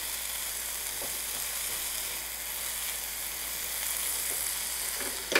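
Food frying in a Uniflame frypan gives a steady, close sizzle that holds through the whole stretch, with a few faint clicks from the pan and no talking.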